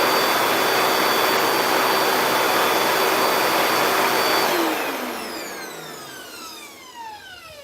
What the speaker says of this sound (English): So you turn your suction on.